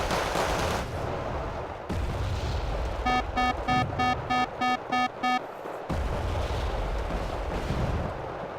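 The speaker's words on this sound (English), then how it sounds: "now it's getting autocannon at close range" Autocannon fire in a war strategy video game comes as a rapid, evenly spaced burst of about nine sharp shots, set within a continuous rumble of battle noise.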